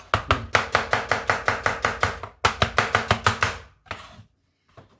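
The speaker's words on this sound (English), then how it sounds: "So just cut the onions like Juliana style, yeah? Like this." A knife chops onions into julienne strips for a Galician tuna empanada, giving a fast, even run of crisp board knocks, a short pause, another quick burst, then a few scattered cuts, close and alone.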